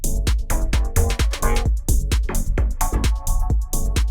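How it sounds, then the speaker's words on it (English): Drum machine clap sample hitting in the same pattern as the snare within a house beat, sharp bright transients repeating in a steady groove over deep kick thumps and musical layers. "And then in terms of the clap, it's playing the same pattern as the snare."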